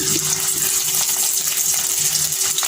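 Bread rolls frying in hot oil in a pan, a close, continuous sizzle and bubbling hiss with no voices.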